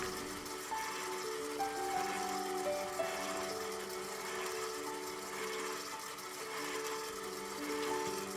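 An electric mixer beats a cake batter with sugar for a banana custard cake, a steady whirring motor drone with shifting pitch as the speed rises, constant and close without talk.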